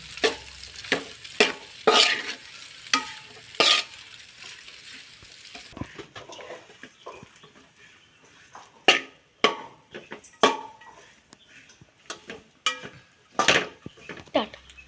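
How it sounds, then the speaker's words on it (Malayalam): Cooked macaroni pasta stirred and mixed in a pan, with irregular scraping and clinking strokes from a spoon against the pan, close and distinct, and a faint sizzle early on. "ഇനി നന്നായിട്ടൊന്ന് മിക്സാക്കി കൊടുക്കാം."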